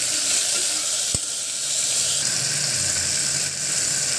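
Onion fries in a pan with a loud, continuous bright sizzle, one sharp click near the start and a faint low hum underneath, with no voices.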